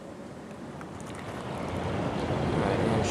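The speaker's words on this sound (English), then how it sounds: "I'm going to start the fan up one more time so you can see the spin down." A Carrier 6200 BTU International Series window air conditioner fan starts up, a rushing whoosh of moving air that grows steadily louder and broader over a few seconds, alone and close.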